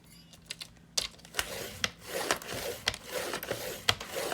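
Heavyweight paper scored several times by hand, giving a string of soft, close scraping strokes and light taps at an uneven pace, quiet, with no talking.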